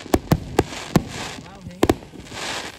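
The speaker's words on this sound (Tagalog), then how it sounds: "I like the fireworks to this year." Several sharp Canada Day firework bangs pop in quick succession, a pair close together near the end, with voices chattering faintly between them.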